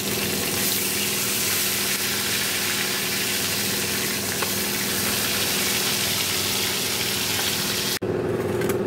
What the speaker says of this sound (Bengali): তো চলো মাছগুলো আগে ভেজে নেওয়া যায়।